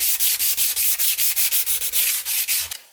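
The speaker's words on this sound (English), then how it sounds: "just some sandpaper, and just start getting off any loose paint" Sandpaper is rubbed by hand over painted Jaguar XJ6 cam covers to strip loose paint, a close, bright, rhythmic scratching of about fourteen quick strokes with no talk.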